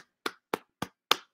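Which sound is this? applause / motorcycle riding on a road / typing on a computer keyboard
applause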